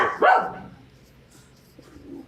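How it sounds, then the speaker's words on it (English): A pet dog gives a sharp, loud bark close by, followed by a softer fading tail and quiet room tone. "Sorry, my dog."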